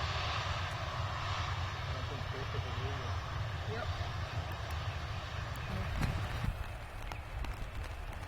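The engines of a DC-8 taking off from Greenville Spartanburg Airport make a steady, distant roar heard from a rainy spot, with a broad rumble holding throughout.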